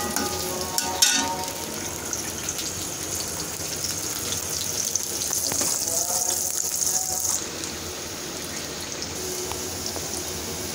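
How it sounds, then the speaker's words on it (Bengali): Onion, minced garlic and green chilies sizzle steadily in a hot pan with oil, a continuous close frying hiss with occasional stirring scrapes and no talking. "এখন আমি এটাকে একটু ভেজে নিব।"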